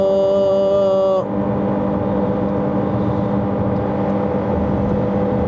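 Chery Tiggo Cross 1.5 HEV climbing on a hill road, engine droning steadily under acceleration after a brief tonal hum cuts off, close and fairly loud, no voices.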